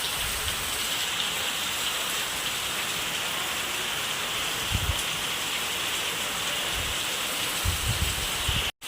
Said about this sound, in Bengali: দেখো কত জোরে বৃষ্টি পড়ছে